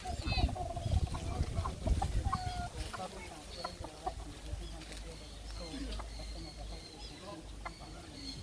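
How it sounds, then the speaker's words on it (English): Chickens cluck repeatedly at a nature park in Barbados, close and lively, with voices talking over the first few seconds and other birds calling faintly in the background. "Look at these chickens."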